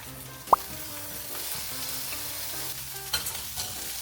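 Shrimp fry in a pan next to boiling ramen and an egg, giving a steady, moderate sizzle with one sharp utensil tap near the start and a few softer clicks later, over faint background music.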